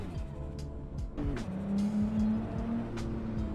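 In the Assetto Corsa driving game, a Nissan S14 drift car engine revs hard and close, with rising and falling gear pulls and a sustained high-revving whine, loud and continuous.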